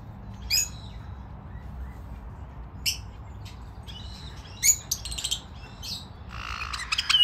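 Finches and canaries in an aviary at a bird park give scattered high chirps and short twittering calls, some close and sharp, over a faint low outdoor rumble, with a brief flurry of rapid notes near the end.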